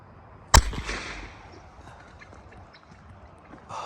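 Orion 12-gauge signal flare fired into the air outdoors: one sharp, very loud report close by, then a fading whoosh and faint crackle under a quiet outdoor background.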